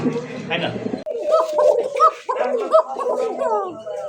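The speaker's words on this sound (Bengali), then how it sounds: "একেবারে অরিজিনাল টাইগার কোকা ডাকবে" Tiger koka pigeons coo repeatedly in a pigeon market, their throaty rolling calls close and fairly loud, with other birds calling behind them.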